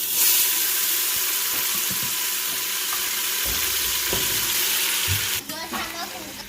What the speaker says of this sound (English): I'm gonna add like 2 tablespoons of oil, maybe 3. All right, we're gonna add our veggies.